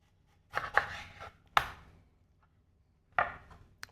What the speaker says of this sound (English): we're just gonna cut this thing into slices